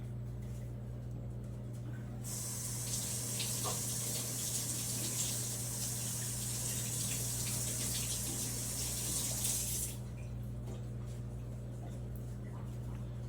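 Tap water runs steadily into a sink for about eight seconds while fresh corn is washed, a close, even gushing hiss over a constant low hum that stops abruptly.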